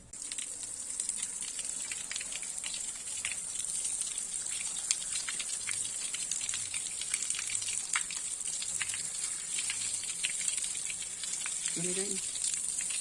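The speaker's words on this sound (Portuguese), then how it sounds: "Vou lavar aqui no chuveiro." Shower water runs steadily while fresh ginger rhizomes are washed under it, a continuous close hiss with faint clatter throughout.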